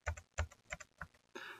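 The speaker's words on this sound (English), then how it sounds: "I can go ahead and type in my information here for my PID number" Keys on a computer keyboard are tapped close up in a short burst, about five quick strokes followed by a slightly longer clatter, with no voice.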